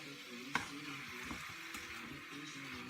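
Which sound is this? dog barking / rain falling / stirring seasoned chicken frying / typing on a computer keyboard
stirring seasoned chicken frying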